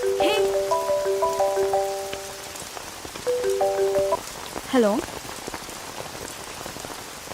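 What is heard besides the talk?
rain falling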